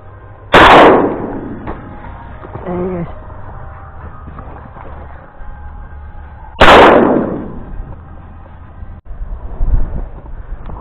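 Two loud shotgun blasts ring out about six seconds apart while duck hunting on the opening day of the autumn 2019 season, with wind buffeting the microphone and a brief voice between the shots.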